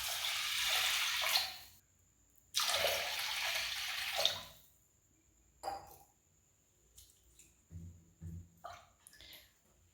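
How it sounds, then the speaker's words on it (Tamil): Water poured from a cup onto washed rice, two cups for one cup of rice, for cooking in a pressure cooker: two loud, rushing pours close by, then a few small clinks and splashes. "நான் ஒரு கப் ரைஸுக்கு 2 கப் தண்ணி ஊற்றுறேன்."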